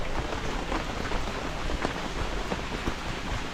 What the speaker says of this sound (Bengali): আর বৃষ্টি তো পড়ছেই,